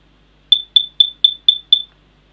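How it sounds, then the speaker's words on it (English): A household smoke alarm sounds six sharp, loud, evenly spaced high-pitched beeps in quick succession, close by in an otherwise quiet room. "When the smoke gets into this, then what happens is that the smoke stops the radiation going across, and it sets off our alarm."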